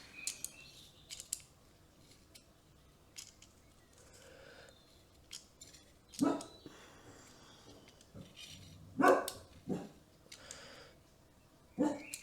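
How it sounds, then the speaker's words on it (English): A dog barking at birds indoors, a few sharp, loud barks spread across twelve seconds between quieter stretches of soft room noise and faint handling sounds. "stop barking at the birds"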